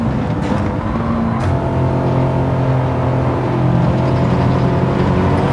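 A racing car engine in Gran Turismo 7 drones loudly and steadily at high revs, a sustained buzzing tone that holds close and constant throughout.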